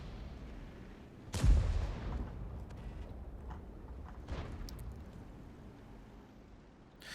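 Artillery firing in the World of Tanks video game: one loud, booming shot followed by a rumbling decay, with a fainter second report a few seconds later.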